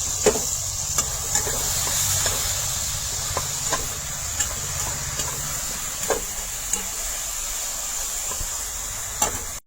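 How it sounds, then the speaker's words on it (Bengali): Tomatoes and salt sizzle and hiss in a hot frying pan for a Bengali radish and paneer curry, with a spoon scraping and clicking at irregular intervals over the steady frying. "তাড়াতাড়ি এই টমেটোটা গলে দিই, লবণ দিয়ে লাড়াচাড়া করে"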